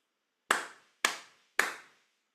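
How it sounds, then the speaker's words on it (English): Three crisp hand claps, evenly spaced about half a second apart, ring out close and clear in a quiet room. "So if you had to clap that"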